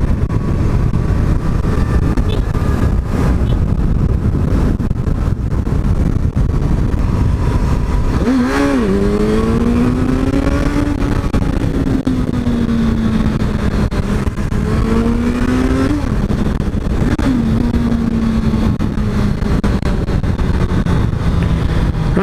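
A Honda CB650F motorcycle engine revs hard and loud with throaty exhaust, the pitch rising and falling through several throttle blips, running continuously up close.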